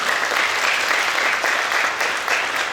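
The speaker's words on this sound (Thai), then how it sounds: "ขอเสียงปรบมือเลยนะให้กับทุกท่านเลยค่ะ" An audience at a press conference for Thailand's 40th National Youth Day claps in sustained, dense applause, steady and fairly loud throughout, with no distinct voices over it.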